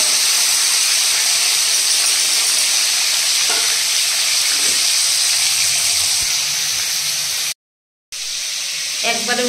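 Five fish pieces frying in oil in a pan just after being flipped, a loud, continuous hissing sizzle close by, broken by a brief silent gap, with a few faint knocks.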